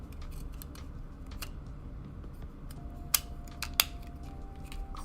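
Plastic model kit parts from a PG Astray Red Frame Gunpla build snapping together: a few sharp, faint clicks and ticks scattered over a quiet background, with two crisper snaps near the end.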